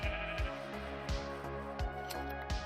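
Several sheep bleat in a Minecraft farm, repeated short bleats at a steady, fairly close level with a faint background tone, no talking.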